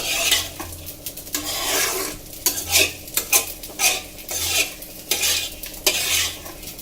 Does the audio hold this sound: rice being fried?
yes